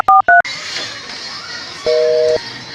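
Telephone keypad tones: two short dialing beeps close together at the start, then a single longer steady tone a second and a half later, over a faint hiss of room noise.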